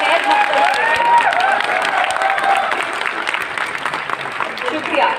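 A live comedy show audience applauds warmly to welcome a performer, with steady clapping and some crowd noise. Someone talks over the applause.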